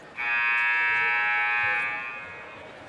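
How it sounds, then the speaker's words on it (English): A basketball game buzzer at Cascade Christian blares one loud, sustained electronic tone for about a second and a half, then cuts off, leaving gym crowd ambience. "Buzzer sounds."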